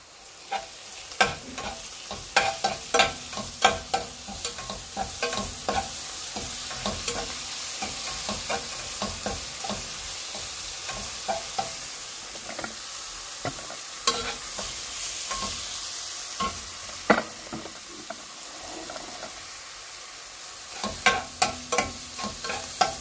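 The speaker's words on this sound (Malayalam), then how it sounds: "ഈ സവാള നന്നായി വഴന്ന് വരട്ടെ." Onions with ground green masala of ginger and garlic sizzle and fry steadily in a pan for Thalassery fish biryani, with frequent stirring scrapes and clicks of a spoon on the pan over the continuous crackle.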